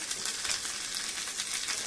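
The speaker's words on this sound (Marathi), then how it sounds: "मोहरी छान तडतडली पाहिजे त्याच्यामध्येच मिरच्या टाकायच्या" Mustard seeds and chillies crackle and sizzle in hot oil for tempering, a dense, steady frying hiss with rapid fine pops close by and no voices.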